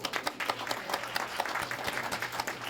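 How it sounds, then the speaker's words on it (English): Applause from an audience at a Veterans Day ceremony, a brief, dense burst of many hands clapping at moderate distance, steady throughout with no voices standing out. "Let's give her a round of applause."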